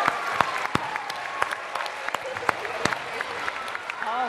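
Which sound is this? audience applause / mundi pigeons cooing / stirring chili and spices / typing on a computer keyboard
audience applause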